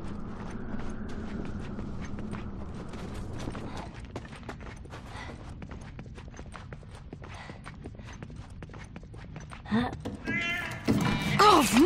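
A cat meows a few times near the end in the video game The Last of Us: Left Behind, over steady rumbling background noise and scattered clicking footsteps, with a voice talking earlier.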